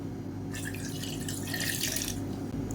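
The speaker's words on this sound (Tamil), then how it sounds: "இந்த தண்ணியை ஊற்றிக்கலாம்" Water pours in a steady splashing stream for about a second and a half, starting and stopping abruptly, over a quiet background hum.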